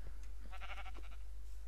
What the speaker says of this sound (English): There's the sheep.